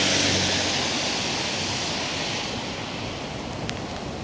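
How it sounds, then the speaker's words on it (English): Steady, dense roar of a waterfall near Loch Ness in winter, loud and continuous, with no voices over it. "We always drive by this waterfall,"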